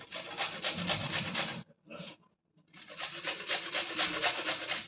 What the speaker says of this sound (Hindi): इस तरीके से हम इसमें घिस लेंगे, जो है प्याज भी घिस लेंगे